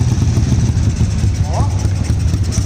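A Honda CG 99 motorcycle fitted with a 68 mm CRF piston idles steadily up close, a continuous loud, even engine rumble with no talk.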